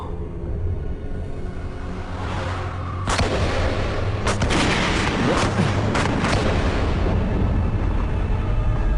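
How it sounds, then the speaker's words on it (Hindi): Movie gunfire echoing inside a cave, sharp loud shots cutting over a constant heavy rumbling background, with several bursts clustered in the middle of the scene. "अरे गोली मत चलाओ, गुफा गिर सकती है।"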